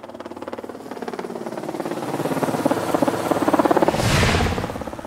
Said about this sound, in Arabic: حمزه معاه درون وهنحاول نصور من فوق